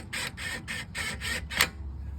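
An impact wrench tightens the axle nut on a 2014 Jeep Patriot in five quick, evenly spaced hammering bursts, each about a quarter second, close and clear. A quiet tail follows.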